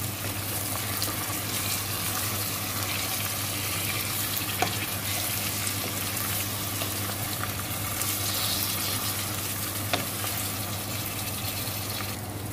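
Chicken pieces frying in a pan for biryani, giving a steady, dense sizzle that runs through the whole stretch with a few faint clicks and no talk.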